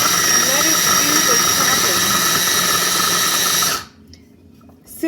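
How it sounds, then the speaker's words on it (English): A tiny food processor chops green olives with a loud, steady whirring motor hum for several seconds, then cuts out abruptly into near silence. "And then I'm going to put it into my tiny little food processor."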